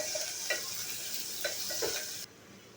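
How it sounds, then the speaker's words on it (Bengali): Onion and cumin frying in a little oil: a soft continuous sizzle with a few scraping stirs of a spatula, fairly quiet and close, cutting off abruptly near the end. "আর এই পেঁয়াজটা ভেজে রাখবো। আমি যে কন্টিনিউ যেটা করি, পেঁয়াজটা আর জিরাটা ভেজে রাখছি।"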